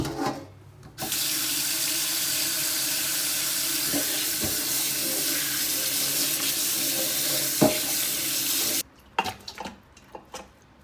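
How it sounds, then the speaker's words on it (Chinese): Boiled oxtail being rinsed under a running tap, a loud continuous gush of water into a sink lasting most of the moment, with a few clanks of handling before it stops and brief knocks after. "再给它冲洗哈。"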